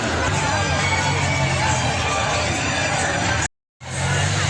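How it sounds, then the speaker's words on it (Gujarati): Crowd gathered at ice gola stalls at a fair near food stalls: dense, continuous babble of many voices and shouts, loud and close, with a brief dropout near the end. "અહીંયા તમે જોઈ રહ્યા છો કે બરફ ગોળા ખાવા માટે અહીંયા ભીડ જોવા મળે છે"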